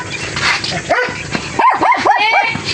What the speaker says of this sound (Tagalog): Ang gandang aso